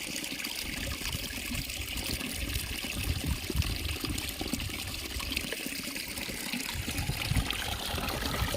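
Water trickles and pours steadily into farm fields, a continuous close, broadband rushing flow with no break across the clip.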